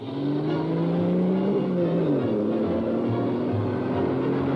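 A Mercedes race car driven by Stirling Moss on the thousand-mile Mille Miglia road race across Italy roars loudly and close, its engine note sliding up and down steadily throughout.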